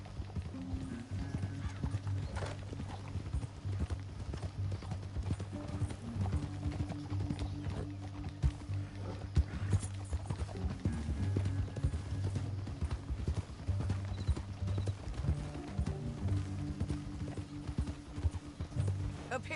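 Horse hooves clip-clop steadily in the video game Red Dead Redemption 2, a continuous moderate rhythm of hoofbeats with an occasional whinny over a low ambient backdrop and no speech.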